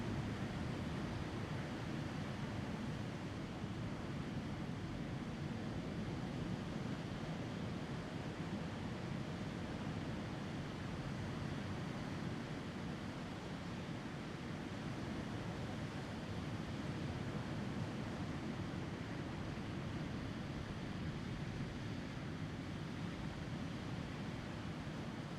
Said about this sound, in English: Bring your focus to your breath, trying to create that subtle sound of Ujjayi breathing, a bit like the ocean